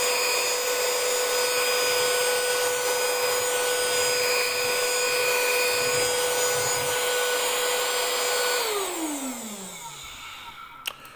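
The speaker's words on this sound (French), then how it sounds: "Et ça y est, c'est prêt donc de nouveau à être aspiré." A Xiaomi Mijia Cleanfly handheld vacuum cleaner runs with a steady, loud whine and airy hiss, then spins down with a falling pitch as it switches off near the end, followed by a small click.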